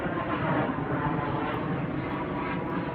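Steady broadband roar of a passenger airplane in flight near Lisbon, a continuous engine and airflow drone with no breaks, fairly loud and filling the whole stretch.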